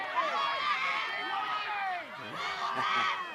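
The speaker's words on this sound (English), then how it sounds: "And you hear a little crowd comments." Spectators at a girls soccer sectional final calling out from the sidelines, overlapping excited voices and shouts in an outdoor crowd, moderately distant, with a commentator talking over them.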